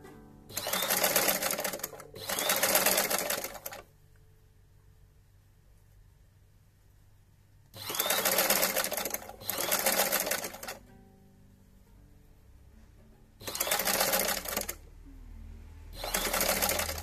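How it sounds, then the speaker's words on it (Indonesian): An electric sewing machine stitches the top edge of a cloth face mask in loud, steady whirring runs, each lasting one to two seconds, in pairs separated by quiet pauses. "Nah, ini menjahit bagian atas."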